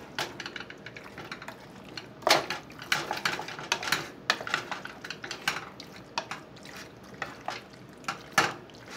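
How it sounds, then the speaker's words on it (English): Spoon stirring and clinking against a pot of low-fat vegan cauliflower cheese sauce, irregular scraping knocks and wet slurps, close and fairly quiet with no talk. "I'm going to stir that up a little bit"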